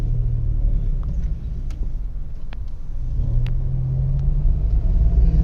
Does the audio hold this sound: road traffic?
yes